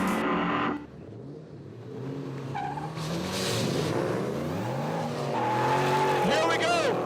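Two drift cars, a Motorsport Dynamic S14 and Ken Gushi's 2005 Toyo Tires Mustang, battle at a Formula Drift event, engines revving hard and tires squealing in long wavering screeches beneath an excited commentator's voice.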